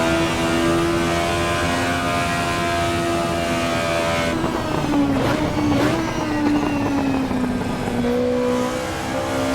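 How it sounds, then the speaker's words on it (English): A race car in the video game Assetto Corsa Evo drifts wide through a corner, its engine droning steadily while the pitch shifts and dips, with tyre scrub layered over a continuous loud engine note. "now I'm washing wide, and I'm currently drifting"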